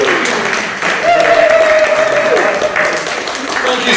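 Audience applause for poet Nick the Bard at The New Poetry Shack, a short run of steady clapping from a small room, with voices talking over it.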